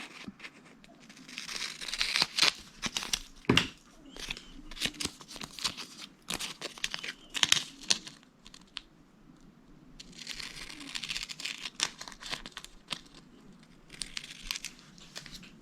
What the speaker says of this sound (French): je viens découper ma petite phrase